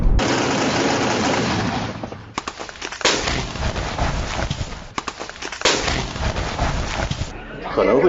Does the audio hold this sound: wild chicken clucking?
no